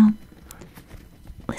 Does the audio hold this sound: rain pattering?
yes